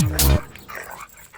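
A dog in a South Indian action film gives one loud, close bark followed by fainter trailing yelps and rustling.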